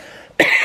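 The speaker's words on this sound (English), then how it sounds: "I'm going to cough" A single sharp cough bursts out close to the microphone after a moment of near silence.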